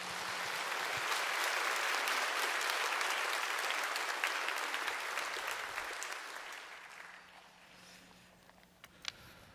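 A church congregation applauds to welcome a guest professor and pastor: sustained, dense clapping from a large crowd that fills the hall, then gradually thins and fades toward the end.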